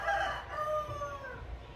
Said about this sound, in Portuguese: Eita, o galo.